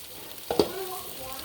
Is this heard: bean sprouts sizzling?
yes